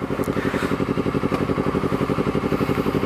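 A motorcycle, a bike the owner mostly keeps at home, speeds up with a steady, loud, rapid engine pulse that stays up close and even throughout, with no voices heard.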